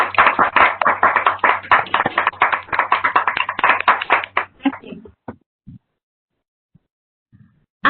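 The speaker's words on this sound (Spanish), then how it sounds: "les pido activen su micrófono para darle un fuerte aplauso a la maestra" Steady applause from a group of people at an online conference session, dense clapping that fades out and stops, leaving near silence with a few faint taps.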